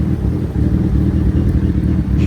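A Suzuki Hayabusa motorcycle, just fitted with a new fuel filter and injectors, idles nearby outdoors with a steady, loud low throb of even engine pulses and some wind buffeting.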